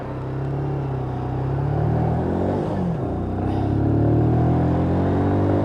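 Steady engine rumble from a Lexmoto Michigan motorcycle as it rolls out into road traffic. The tone dips briefly and then rises again as the bike pulls away, loud and close throughout.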